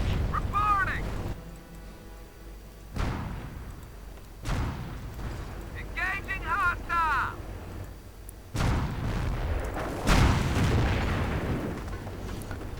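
Artillery fire in a multiplayer real-time strategy war game, heard as several heavy booms and bursts spread through the clip, sitting with game effects under a steady layer of background sound.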